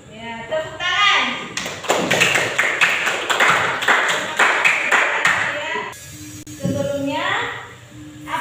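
A classroom of pupils clapping together, a burst of quick, fairly loud claps in the middle with children's voices and chatter before and after.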